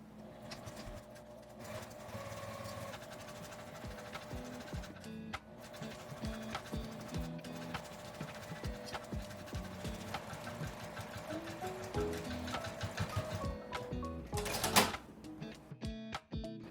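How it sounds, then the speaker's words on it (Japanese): Sewing machine stitching the curved ends of a fabric tissue case for boxed tissues, a continuous fast mechanical whirring chatter that speeds and slows slightly, ending with a short sharp burst near the close. "カーブのある両端を縫います。"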